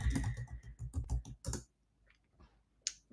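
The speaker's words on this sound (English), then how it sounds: "So I'm typing it into the dictionary." Rapid keystrokes on a computer keyboard, a quick burst of close, crisp clicks followed by a pause and a few scattered taps, with no voices.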